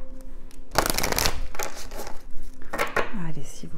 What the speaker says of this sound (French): Alors je vais un petit peu mélanger le jeu.